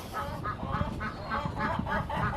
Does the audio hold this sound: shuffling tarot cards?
no